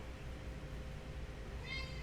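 A house cat lets out a short, clear meow near the end, close by, over a steady low background hum with no speech.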